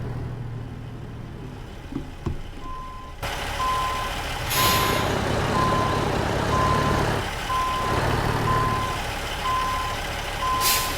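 In American Truck Simulator, a truck backs up with evenly spaced reversing beeps over a steady engine rumble. Two sharp hisses of an air brake break through, one midway and one at the end.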